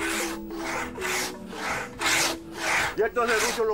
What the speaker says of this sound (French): Francisco et son frère Gennaro scient du bois pour remettre à neuf leur tambour